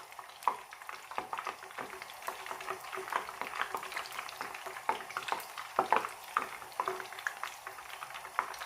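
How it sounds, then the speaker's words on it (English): Falafels frying in hot oil, a steady faint crackle with sharp pops and bubbling spits scattered throughout, close by and with no talking. "I'm just going to put the falafels in one by one, and we're just going to fry them golden brown"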